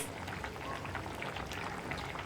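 Thick first coconut milk poured into a simmering brinjal curry soured with kudampuli: a faint, continuous bubbling and pouring patter, with no talking.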